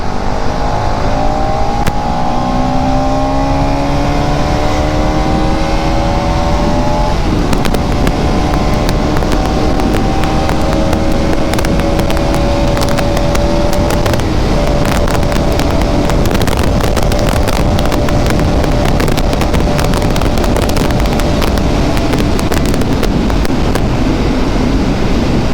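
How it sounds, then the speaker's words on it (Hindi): A Bajaj Pulsar NS200 motorcycle engine revs up with rising exhaust tones that climb and settle into a sustained loud drone, heavily buffeted by close wind noise for the whole stretch. "You rev the throttle and it's ready"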